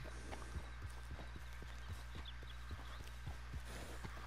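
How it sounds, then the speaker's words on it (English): Horse hooves clip-clop at a steady walking pace in the Red Dead Online video game, with even, close, distinct strikes repeating over a low ambient hum, no talking. "Well, this is a nice horse."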